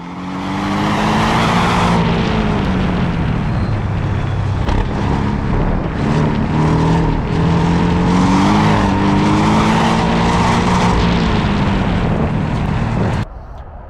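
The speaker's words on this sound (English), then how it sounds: "You can kind of hear the intake sound in this clip." An APR-tuned Porsche 718 Cayman S engine roars loudly and steadily, its pitch rising and falling as it revs, with a throaty intake note running throughout before it cuts off near the end.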